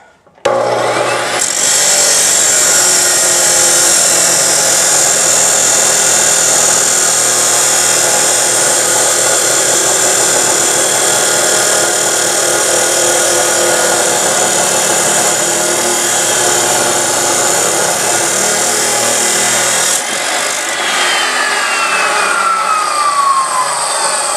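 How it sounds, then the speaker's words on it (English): A guillotine tool cuts through a metal bar with a loud, sustained grinding rasp lasting about twenty seconds, then stopping abruptly and giving way to quieter scraping. "Now let's cut the second bar."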